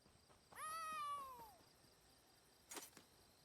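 A cat named Winks meows once, long and rising then falling, in Elder Scrolls Online gameplay, clear and close against a quiet background, followed by a brief sharp sound.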